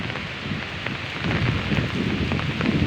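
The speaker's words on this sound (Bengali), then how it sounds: "অনেক অনেক বৃষ্টি।" Heavy rain during a cyclone pouring down as a dense, steady roar of wash and spatter that swells a little louder partway through, with no voices over it.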